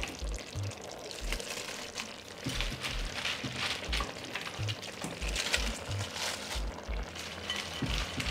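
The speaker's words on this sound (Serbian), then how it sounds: "I sada ću dodati seckani kupus" Chopped cabbage sizzles and fries loudly in a hot pan, a steady crackle broken by repeated low thumps and stirring knocks throughout, with no talking.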